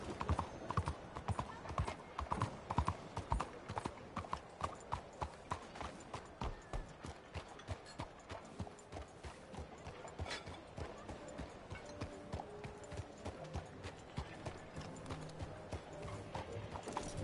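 Horse hooves clip-clop at a steady trot in the Red Dead Redemption video game, a continuous rhythmic patter up close with occasional whinnies, while voices talk over the hoofbeats.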